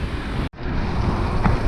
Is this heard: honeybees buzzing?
no